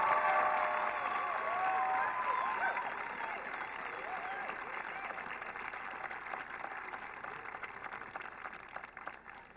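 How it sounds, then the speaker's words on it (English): A high school graduation crowd applauds, a distant, fairly quiet spread of clapping with some voices and faint cheering, fading gradually after the first few seconds. "would you guys give Mrs. Bradley a round of applause, please?"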